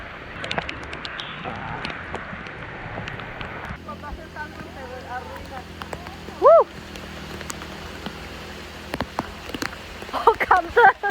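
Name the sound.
rain in tropical forest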